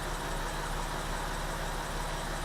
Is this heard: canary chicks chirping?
no